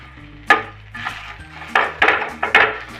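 Metal spoon scraping and clanking against a pan while onion and spices are sautéed in oil for a traditional Makar Sankranti vegetable dish, several sharp stirring strokes close up with no voices.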